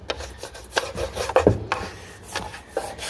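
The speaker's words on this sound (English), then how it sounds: "give her a good scrubbing" A scrub brush works over the cab interior of a Peterbilt 379 truck under rebuild, giving irregular close rasping strokes with a few sharper scrapes in the middle, and no voices.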